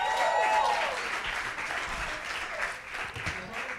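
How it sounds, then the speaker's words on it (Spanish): Audience applause for Juancito at a live comedy podcast taping, a dense steady wash of clapping from a crowd, loud and close, with a few voices calling out over it. "¡Aplauso para Juancito!"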